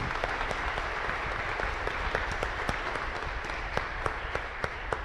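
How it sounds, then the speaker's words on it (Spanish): A congregation applauds during a live Mass in a chapel, dense steady clapping that fills the room at moderate loudness from start to finish, with a few sharper individual claps standing out. "fuerte los aplausos a cada uno de ellos."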